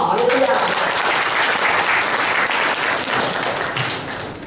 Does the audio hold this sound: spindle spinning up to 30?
no